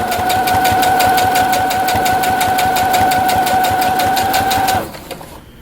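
A sewing machine stitches and backstitches a sunglasses case, its needle hammering in a fast, steady rhythm with a sustained motor whine, close and loud, running alone before stopping abruptly near the end.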